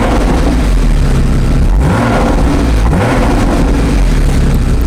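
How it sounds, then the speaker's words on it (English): A 2016 Porsche Boxster Spyder in Sport Plus mode revs hard and loud, its engine note rising and falling with sharp exhaust crackles between pulls, with no voices over it. "Listen to those crackles."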